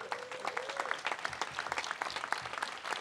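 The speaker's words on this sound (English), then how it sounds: "All right, let's give them a round of applause." Moderate applause from an audience at a city Pride kickoff event honoring youth award winners, a steady patter of claps with a brief whistle near the start.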